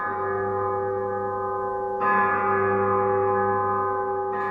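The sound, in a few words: church bells ringing for Easter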